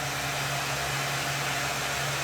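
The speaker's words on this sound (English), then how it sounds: "now I'm going to go ahead and turn the hair dryer back on." A hair dryer set to low, powered from a portable power station, runs as a steady, soft whirring hum with an even airy hiss, unbroken and alone for the whole stretch.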